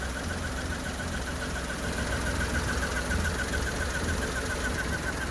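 A 1997 minicab engine idles too low, a faint, steady, slightly knocking hum with a constant vibrating drone and no other sounds.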